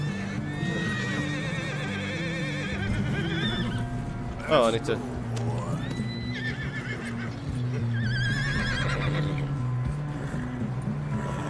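A horse neighs sharply, with clip-clopping hooves, in the Red Dead Redemption 2 video game, set among ambient game sounds while someone talks over most of it.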